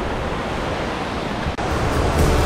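Waterfall mist blowing across a viewpoint in the Alps near Kuchl, Austria: a dense, steady roar of falling water and spray fills the whole clip, close and loud, with a brief dip midway and no talking.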